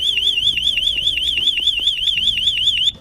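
A Smarthalo bike alarm sounds with a continuous warbling high-pitched electronic tone that wavers rapidly up and down for about three seconds before cutting off abruptly, with faint background rumble underneath.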